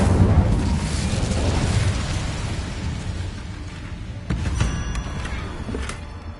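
An Incendio fire spell cast in Hogwarts Legacy lets out a loud, rumbling whoosh of flame, then a second sharp burst flares up partway through and fades into a steady roar.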